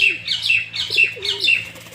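Madras pigeons call in a steady rhythm, about four bursts in two seconds, with soft low cooing tones beneath and a faint electrical hum.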